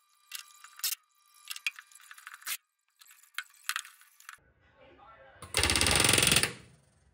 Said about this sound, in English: I begin setting all the rivets. I start by setting the rivets that run down the longerons.